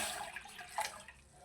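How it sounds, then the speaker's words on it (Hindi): Half a litre of water poured into a pot for homemade gripe water, a short, soft splashing pour that rises briefly and then fades. "हाफ लीटर में शामिल कर रहा हूँ इसके अंदर पानी"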